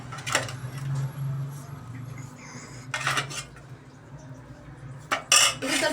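Steel utensils and dishes clatter and scrape while pudina chicken curry is served at home, with sharp clinks in bursts over a low background hum.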